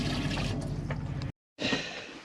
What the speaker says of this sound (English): the water pump is operating as it should